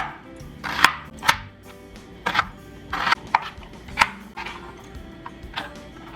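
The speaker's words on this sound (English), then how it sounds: "Next, we're going to mince our onion." A knife minces onion on a cutting board in a run of sharp, irregular chops, close and crisp against a quiet kitchen background, with no talking.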